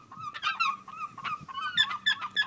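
Seagulls crowd in to be fed banana pancakes, giving repeated harsh, honking squawks close by in quick overlapping bursts, with no talking.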